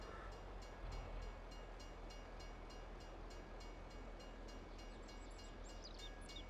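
A train in a farming simulation game rolls past with a steady rumbling and rhythmic clattering, and a horn-like tone near the end, alone and without talk.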